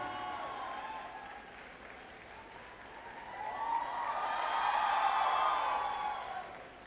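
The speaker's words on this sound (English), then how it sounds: "So please give one more applause to teachers" A convocation audience claps for the teachers, a broad wash of applause that swells midway with a few whoops before easing down.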